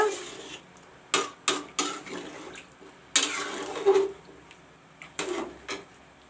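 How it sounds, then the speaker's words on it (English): Water splashes and clatters into a metal cooking pot while making drumstick curry, in several short bursts, close by, with brief pauses between pours. "Friends, I have put in the water."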